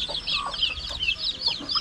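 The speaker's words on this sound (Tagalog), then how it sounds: "Marami na tayong manok dito." Several chickens on a farm cluck in quick, overlapping calls, close and fairly loud, with no voices over them.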